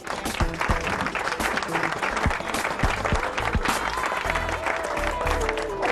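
Loud, sustained applause from a crowd, dense clapping filling the whole stretch with a few sharp individual claps standing out.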